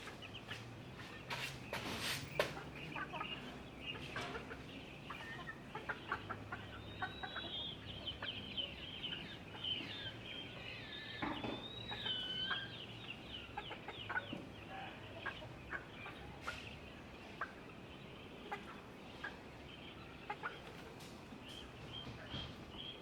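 Chicks and chickens cluck and peep on a livestock farm, scattered calls near and far with occasional sharp squawks over a steady background.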